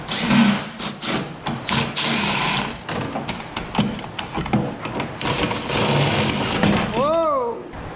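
A power tool cuts a piece off a cabinet in repeated loud whirring bursts with short gaps between them, while people talk over the noise.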